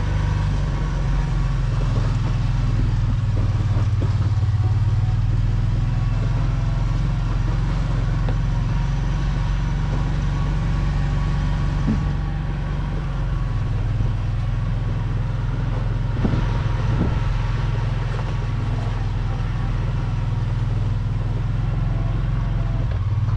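A tractor engine runs steadily nearby during farm cleanup work, a low constant drone that shifts slightly in pitch partway through, with no talking over it.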